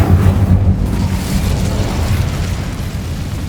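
An Incendio fire spell erupts in a Harry Potter game, a loud roaring whoosh of flame with heavy low rumble that swells at once and then holds steady as a burning rush.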